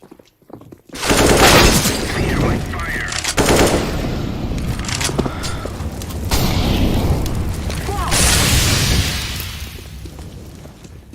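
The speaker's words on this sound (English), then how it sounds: "Throwing a flashbang." Loud blasts and crackling gunfire from a CS:GO match ring out, a flashbang grenade bursting among them, in several surges over roughly ten seconds with a dense, rumbling tail.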